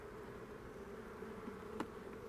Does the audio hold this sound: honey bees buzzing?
yes